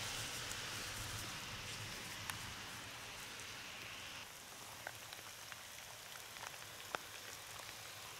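Heavy rain pours steadily over forest on the Forest of Dean, a dense continuous hiss of drops on leaves and ground with a few louder nearby drips, no voices.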